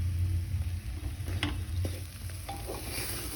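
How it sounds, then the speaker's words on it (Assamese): Masoor dal frying in a pan with salt and green chillies, a steady low sizzle under occasional scraping stir strokes, fairly close. "2 মিনিট সময় ফ্ৰাই কৰিলোঁ"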